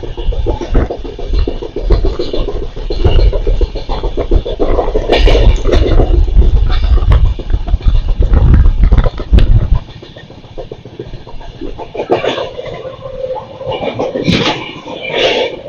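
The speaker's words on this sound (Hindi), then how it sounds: "इटावा जंक्शन को स्किप करने वाली है हमारी ट्रेन, और इटावा के आउटर में पहुंची गई है" The Jammu Mail passenger train rumbles along loudly through the outer approach to Etawah Junction without stopping, a steady rolling roar that drops to a quieter clatter with occasional rattles.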